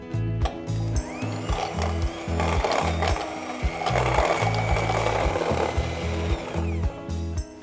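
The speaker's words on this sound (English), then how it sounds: "I'm just going to whisk the rest of that double cream" Double cream is whisked in a bowl with an electric mixer, giving a steady mechanical whirring with rhythmic clattering pulses as the beaters knock against the bowl, close and continuous with no talk.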